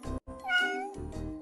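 A cat meows in the video game Cat Escape, two or three clear, fairly loud meows in quick succession with a brief gap near the start, and no talking over them.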